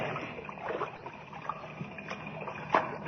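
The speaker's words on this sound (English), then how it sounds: "As they wade through the water of the partly flooded shaft" Radio drama sound effect of people wading through water in a partly flooded mine shaft: faint, low sloshing and soft splashes over a dull background, with a slightly sharper splash near the end and no speech.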